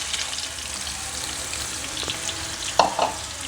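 Potato strips deep frying in oil, a continuous bubbling sizzle with a couple of sharper clatters near the end, close and steady with no talking.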